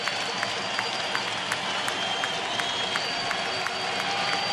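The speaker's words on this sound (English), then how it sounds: "And this crowd is loud." Crowd at a Kansas City Royals versus Oakland Athletics baseball game roars in a steady wash of cheering and scattered claps, with a few sharp claps standing out at regular intervals.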